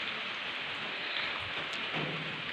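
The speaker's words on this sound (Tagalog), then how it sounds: "Umulan na naman, guys." Steady rain hisses on a surface at a swimming resort, a continuous dense patter with faint low rumbles underneath, no voices present.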